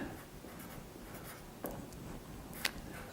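Pen scratching across paper while writing out letters for a phonics lesson, soft close strokes with a couple of sharper taps, no voices.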